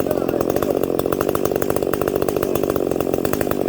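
A chainsaw with a partial muffler runs steadily at high revs, loud and close, its rasping buzz continuous through the whole stretch with no talking.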